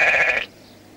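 A single short sheep bleat, close and clear, lasting under half a second before fading into quiet.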